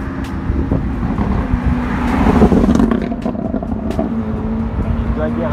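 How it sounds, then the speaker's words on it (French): Rally cars come down a mountain road at Andermatt, engines droning past at moderate distance with a swell of revving in the middle, under light wind and scattered background noise. "Et du coup les voitures du rallye redescendent"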